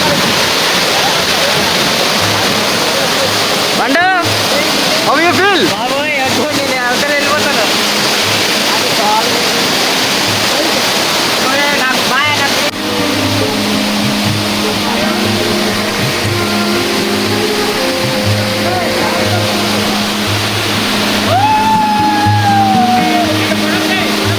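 Continuous roar of a roughly 1000-foot waterfall close by, heard from its top, loud and unbroken throughout, with people talking now and then over the rushing water.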